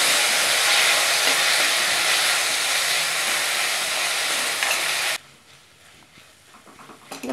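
Chopped tomatoes and onions sizzle in a pan for a Chettinad egg curry, a loud, steady hiss that cuts off abruptly, leaving quieter kitchen noise.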